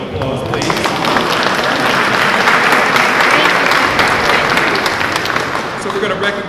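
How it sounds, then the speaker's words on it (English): Sustained, loud applause from an audience at a chamber of commerce event honoring a state senator, dense steady clapping filling the whole stretch with crowd noise mixed in. "for State Senator Donzella James, another round of applause, please."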